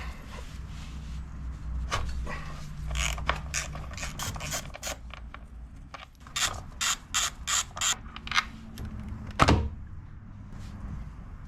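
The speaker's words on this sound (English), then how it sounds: "if you use the correct Allen wrench, and you can get right behind the backing plate without a problem and get it off just like this" An Allen wrench works loose the backing plate on a Harley-Davidson during an Arlen Ness Velocity 90-degree air cleaner install, giving a series of close, sharp metallic ratchet clicks and creaks in irregular bursts, with no talking.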